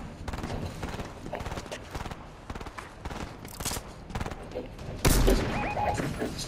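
Rapid automatic gunfire in the Fortnite video game, sustained volleys of close shots with a loud burst near the end, over faint game sounds.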